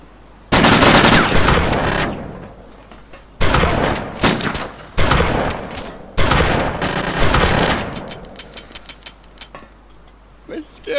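Rapid automatic gunfire in the video game DayZ, loud and close, coming in several long bursts of crackling shots with brief gaps, tapering into a few single clicks at the end.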